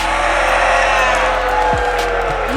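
Esports arena crowd at a Rainbow Six Atlanta Major grand final between LOS and W7M, a loud, dense roar of cheering and whooping that fills the whole clip with a brief rising yell near the end.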